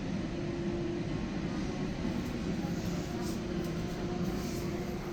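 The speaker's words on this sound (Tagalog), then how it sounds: "Uy, may dalawang helicopter." Two helicopters flying over a hospital produce a steady, continuous low rotor and engine drone from overhead at a moderate distance, holding constant throughout with no talk.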